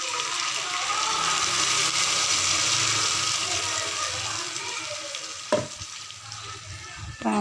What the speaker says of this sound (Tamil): வந்து பார்த்திங்கன்னா வெங்காயம் நல்லா வறுபட்டுருச்சு. இந்த சமயத்தில் நம்ம இந்த மசாலாவை சேர்த்துக்கலாம்.